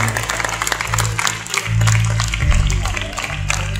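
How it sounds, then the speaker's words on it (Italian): Audience applause at an Italian concert event, a dense wash of clapping from a crowd, with a voice speaking over it. "Facciamo davvero un grande applauso a Laura"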